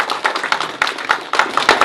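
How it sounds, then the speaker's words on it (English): Brief, sparse clapping from a small audience at a technology community talk, a few hands patting unevenly in short bursts rather than a full ovation. "Can we get another round of applause for her?"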